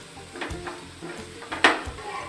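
Onions sautéing in a pan, with a soft sizzle under intermittent scrapes and clinks of a spoon stirring against the metal, one sharper knock near the end.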